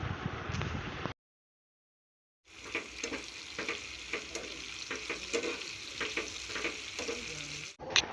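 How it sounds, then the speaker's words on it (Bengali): Food frying in a pan in a Bengali home kitchen: a steady loud sizzle with stirring sounds, broken by a short stretch of silence before the crackling frying resumes. "আর এইদিকে আমি ভাজাভুজি করছি"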